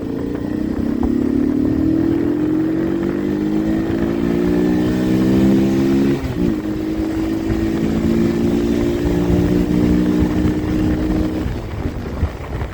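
A Kuba SJ 50 Pro semi-automatic motorcycle engine runs steadily and loudly throughout, its pitch climbing through gears, with a brief dip around the middle before rising and settling again.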